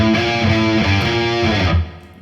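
Distorted electric guitar plays a short phrase of a riff, several chugging power-chord notes in steady rhythm, loud and close, then fading out.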